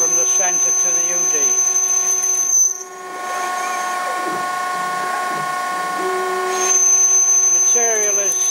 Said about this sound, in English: it's going to turn a series of steps to rough out the shape of the radius end before completing a single radius cut